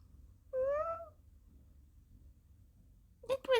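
A kitten gives a clear, close meow, then after a quiet stretch lets out a couple of shorter, sharper meows.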